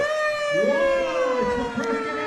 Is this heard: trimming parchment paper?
no